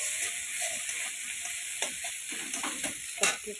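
Chopped tomatoes dropped into a hot pan and frying, a steady hissing sizzle with soft stirring scrapes and a few louder clatters toward the end, close up.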